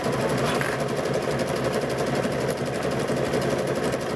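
A sewing machine stitches binding onto a quilt, running as a steady, continuous motor hum with a fast, even needle rhythm, close and fairly loud, with no talking.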